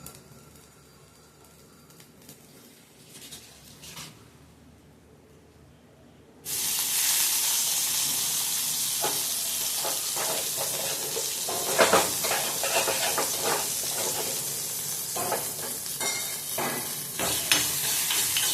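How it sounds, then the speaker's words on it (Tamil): Curry leaves drop into hot oil and erupt into a sudden loud hissing sizzle after a quiet start, then crackle and spit steadily with occasional stirring clatters, close up and without speech. "கொஞ்சம் எண்ணெய் ஊற்றி கருவேப்பிலை சேர்த்துக்கலாம்."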